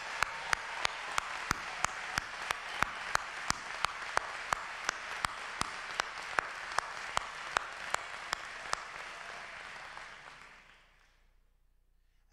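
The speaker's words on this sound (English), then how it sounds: "how about one more round of applause for our graduates" Large crowd applauding graduates at a Walsh University winter graduation ceremony, steady dense clapping with sharp individual claps standing out, fading away over the last couple of seconds.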